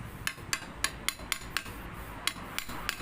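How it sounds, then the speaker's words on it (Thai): A hammer taps a front fork seal into a Yamaha DT100 fork about ten times in an irregular rhythm, sharp close knocks over a quiet background hum. "แล้วก็เคาะเอาค้อนเคาะค่อยๆไล่นะครับ"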